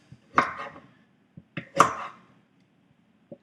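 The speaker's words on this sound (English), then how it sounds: "Don't be scared to just chop it up." Knife chopping fruit or vegetables into small pieces on a board before juicing: two firm, close chops a little over a second apart, each with a short rattle, then a few light taps, alone in a quiet room.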